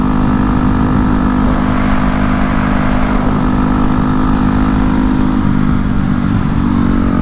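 A 2009 Yamaha WR250X supermoto is ridden at a steady pace, its single-cylinder engine a loud, constant buzz mixed with heavy wind rush close to the rider.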